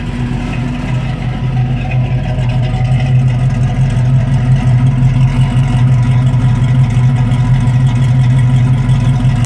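A 1966 Ford Mustang coupe's V8 runs steadily at close range, a loud deep rumble holding near idle with a faint rise in pitch and no voices over it.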